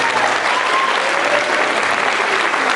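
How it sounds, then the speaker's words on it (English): Loud, steady applause from an audience at a high school project graduation hypnotist show, dense clapping sustained throughout with a faint crowd murmur beneath. "let's give them one more great big round of applause."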